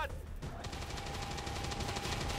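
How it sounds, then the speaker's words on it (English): Rapid automatic gunfire from suppression fire in XCOM 2, a fast run of sharp repeated shots that continues evenly through the whole stretch at moderate level. "suppression fire"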